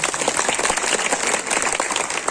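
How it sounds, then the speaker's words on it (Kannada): An audience at a school Independence Day celebration claps loudly and continuously, a dense crackle of many hands throughout. "ಅವ್ರ ಕಡೆಯಿಂದ ಒಂದು ಜೋರಾಗಿ ಚಪ್ಪಾಳೆ"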